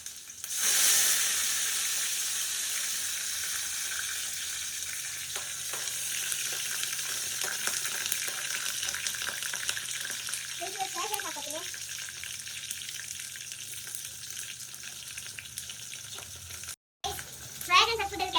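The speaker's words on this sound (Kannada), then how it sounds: "ಇವಾಗ ಪ್ಯಾನ್ ಇಟ್ಬಿಟ್ಟು ಆಯಿಲ್ ಹಾಕಿದ್ದೀನಿ. ಇವಾಗ ಆನಿಯನ್ ಹಾಕೋತಾ ಇದ್ದೀನಿ." Onions and curry leaves fry in oil in a pan with a loud initial burst of sizzle that settles into a steady hiss, with occasional stirring and brief faint voices near the end.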